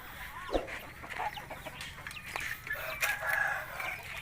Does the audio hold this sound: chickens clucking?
yes